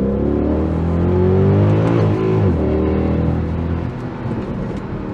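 A Mercedes-Benz W211 E63 AMG V8 engine revs steadily upward toward the red line in second gear, a loud, rising, harmonic-rich roar that peaks and then drops as the throttle lifts.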